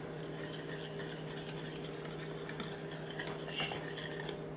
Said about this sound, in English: stir this until the butter and the chips are all melted and everything's just smooth